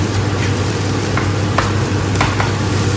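Eggs being stirred in a hot pan give a steady, loud sizzle with occasional soft scrapes of a utensil, heard close and continuous with no talking.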